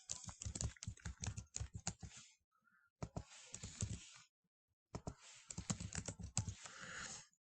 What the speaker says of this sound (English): So I'm going to type that over here.